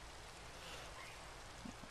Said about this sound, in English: it does sound like it's pouring rain outside right now